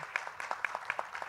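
Brief, quiet applause from a seated audience at a talk, a handful of distinct sharp hand claps in quick succession with a faint roomy background.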